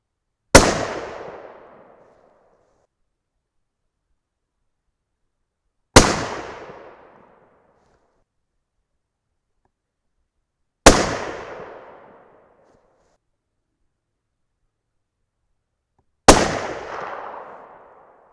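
Four loud, sharp rifle shots from a .300 Win Mag, each a single crack with a decaying tail, spaced about five seconds apart with silence between them.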